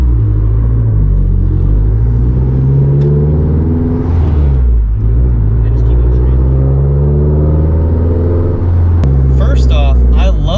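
A Mazdaspeed 3 on a test drive, fitted with a new flywheel, gives a loud, steady, deep engine and exhaust drone with a low rumble that dips briefly. A brief sharper noise comes near the end.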